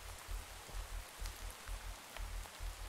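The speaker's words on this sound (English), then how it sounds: "Maybe the rain stops." Steady rainfall in Minecraft (Valhelsia 2 modpack), a soft continuous hiss of drops over a low rhythmic pulsing background, faint and without talk.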